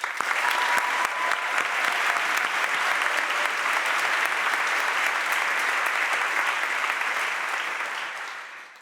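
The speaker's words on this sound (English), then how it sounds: "Let's give her a round of applause." A crowd at a Harvard ROTC commissioning ceremony applauds steadily for several seconds, dense clapping that holds even and then fades out at the end.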